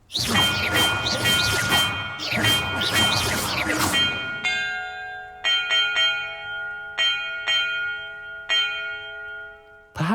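Bells ring in a puzzle in Hogwarts Legacy: a clattering wash of overlapping loud strikes, then a sequence of single clear chimes at uneven intervals, each left to ring out before the next.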